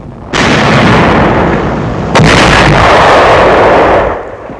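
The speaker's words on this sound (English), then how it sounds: "A tank of the 2nd Armored Division opens fire." A 2nd Armored Division tank fires its cannon: two loud, heavy booms in quick succession, each followed by a sustained rumbling roar that fades out.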